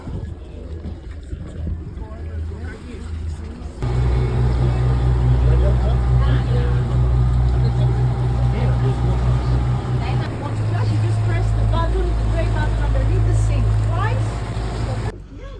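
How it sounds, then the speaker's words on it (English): A boat engine off Santorini drones loud and low, starting up and running steadily under wind buffeting the microphone and muffled voices. "this is the boat that we're going on today"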